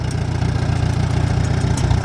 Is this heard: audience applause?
no